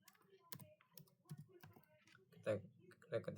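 Computer keyboard keys are tapped in short irregular bursts while entering a hostname command in Cisco router global configuration, close and crisp clicks with a voice speaking faintly underneath.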